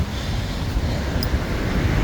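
Steady, rumbling wind from a storm in Melbourne, Australia buffets the microphone throughout, with constant low-frequency roar and no voices.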